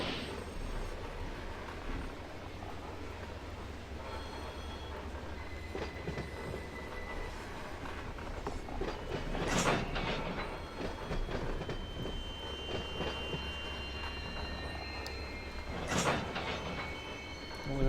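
Eastbound freight train rolling past in the Run8 train simulator game, a steady rumble of wheels with squeals and screeching flange noise rising twice, continuous and fairly loud.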